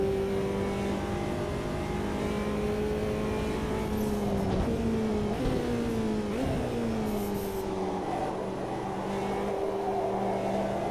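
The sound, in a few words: Mercedes race car engine in a sim racing game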